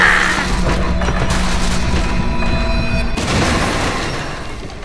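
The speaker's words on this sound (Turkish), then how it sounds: "Bir şey yok, bir şey yok, trafo patladı." A loud, sustained booming rumble of an electrical transformer exploding in Layers of Fear fills the whole stretch, with a steady electrical hum and tonal whine beneath dense crackling noise, easing slightly near the end.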